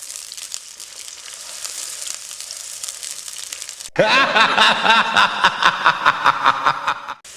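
Onion slices sizzle in hot oil with a steady crackling hiss, and the sound swells into louder, busier spattering partway through.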